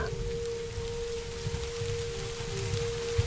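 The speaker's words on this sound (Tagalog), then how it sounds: "panaka-naka pa namang pag-ambon hanggang sa tuluyan ng naging malakas na ulan iyon" Rain, used as a horror story sound effect, patters steadily on surfaces with a low rumble underneath and a faint tonal hum running through, fairly soft and continuous.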